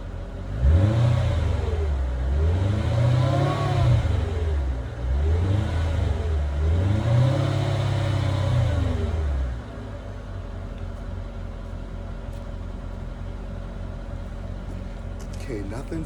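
Engine of a 2005 Mercedes SL500 revving through its stock exhaust, three smooth rising-and-falling revs close by, then settling into a low, steady idle.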